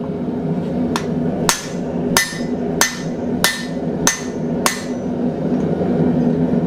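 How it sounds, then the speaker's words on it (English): A hammer pounds hot steel held in a Blacksmith Depot guillotine tool, drawing the bar into a quarter-inch tenon: seven sharp, ringing strikes at a steady pace, close and loud, over a constant low hum of shop noise. "I'm going to put it in this flat section and start hammering down"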